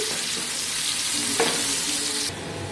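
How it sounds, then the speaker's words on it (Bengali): Chopped onions fry in hot oil, giving a loud, steady sizzle that fills the whole moment, with one brief utensil clink partway through and a slight drop in intensity near the end. "তো পেঁয়াজ কাটাগুলো তেলে দিয়ে দিচ্ছি।"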